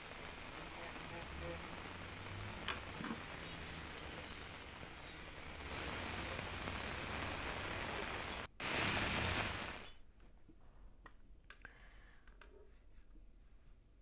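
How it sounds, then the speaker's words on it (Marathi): Heavy monsoon rain pours down in Kurla East, Mumbai, making a dense, steady hiss of drops striking surfaces that swells louder for a stretch before easing to a softer patter. "कुर्ल्यामध्ये सकाळपासून पाऊस तुफान पडतोय"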